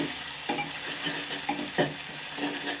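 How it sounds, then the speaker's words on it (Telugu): Ingredients for gongura curry frying in a pan with a steady sizzle, interrupted by several scraping stirs of a spatula, close and moderately loud with no voices. "బాగా ఫ్రై చేసుకుందాం"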